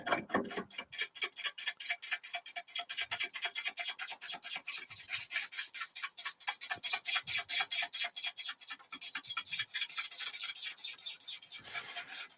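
A bowl gouge cutting wood on a lathe, a rapid, rhythmic scraping rasp repeating in quick pulses throughout, close and fairly quiet, with no talk.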